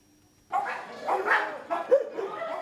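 Several dogs housed in a crowded French animal shelter bark and yap close by in overlapping bursts, loud and continuous after a brief quiet start.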